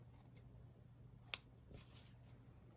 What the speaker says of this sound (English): Just going to really roughly cut the cheesecloth.